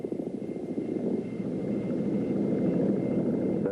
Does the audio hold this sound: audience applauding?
no